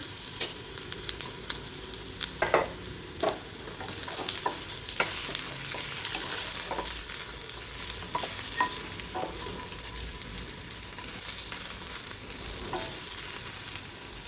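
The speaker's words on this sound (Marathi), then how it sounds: "हे जे फणसाचे पीस आपण वाफवून घेतलेले आहेत, हे थोडेसे तेलावर असे फ्राय करायचे" Steamed jackfruit pieces frying in a little oil in a pan, a soft continuous sizzle broken by scattered scraping and tapping as a spatula stirs them, close and unaccompanied by speech.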